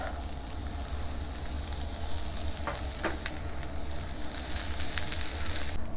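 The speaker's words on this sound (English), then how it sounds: "Add a little oil. And we'll saute some mushrooms, onions, peppers," Mushrooms, onions, peppers and garlic sauté in oil in a skillet on a smoker, giving a steady close sizzle with soft stirring scrapes throughout.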